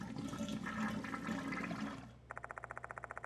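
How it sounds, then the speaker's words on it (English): Game-world toilet in Death Mark 2 flushing and churning as a plunger works the clogged bowl, a steady rushing whoosh of water followed by a quick run of regular bubbling gurgles, loud and close. "Several large bubbles rush to the water's surface and pop. Gurgling sound immediately accompanies them."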